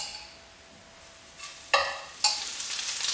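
Prawns in a garlic masala hit a hot pan with two sharp sizzling bursts, then settle into a steady, bright frying hiss that stays close and clear.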